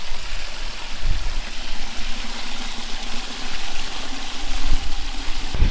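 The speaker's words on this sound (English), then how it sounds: "it's gonna take longer than 14 seconds to fill that bucket up with the float on it" Water pours steadily into a bucket fitted with a float valve on a farm, making a continuous close trickling rush over a low engine hum, with a few faint knocks.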